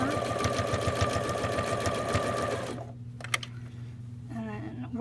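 A sewing machine stitches the neckband onto a V-neck tee shirt, whirring in a fast, steady, close-up run for nearly three seconds before stopping, leaving a quiet room with a soft click.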